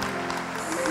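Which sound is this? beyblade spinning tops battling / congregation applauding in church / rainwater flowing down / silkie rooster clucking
congregation applauding in church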